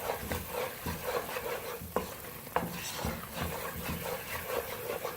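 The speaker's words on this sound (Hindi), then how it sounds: "चीनी डालने के बाद 5 मिनट से मसलसल हम भून लें, चम्मच साथ साथ चलाते जाते हैं।" A spoon stirring and scraping thick chana dal halwa as it roasts with sugar in a pan, a soft continuous sizzle with irregular scraping strokes and a couple of sharper knocks, close and quiet, no talking.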